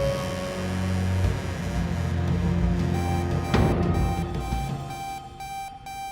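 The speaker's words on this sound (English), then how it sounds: "I kept hearing like a loud, kind of like a beep noise." A loud, steady electronic beeping like an alarm clock, sustained tones layered over a constant hum in a night-shift workplace, with a sharp burst partway through.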